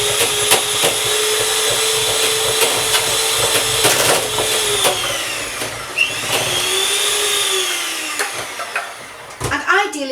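An electric whisk whirs steadily as egg is beaten into cookie dough, a loud close motor whine that shifts pitch as the beaters work, with clicks and knocks against the bowl and a brief stop near the end.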